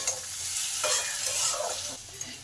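Boiled papaya with cumin powder stirred in a pan, a close continuous sizzle with soft scraping sweeps of a spoon through the mixture, no talking.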